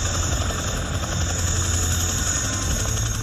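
A 12-ton Chinook helicopter fitted with skis for deep snow drones loudly and steadily, its rotor thump and turbine whine filling the scene without pause.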